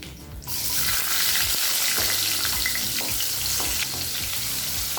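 Asafoetida, curry leaves, two dried chillies and shallots hit hot oil for a village-style kootanchoru tempering, bursting into a loud, close, sustained sizzle and crackle with stirring scrapes throughout.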